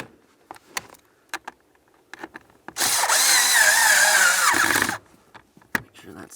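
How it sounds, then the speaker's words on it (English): Power drill snugging a mounting bolt on a Toyota RAV4 heater blower motor, one loud buzzing whir of about two seconds amid scattered clicks and clanks of handling. "let's just snug them up"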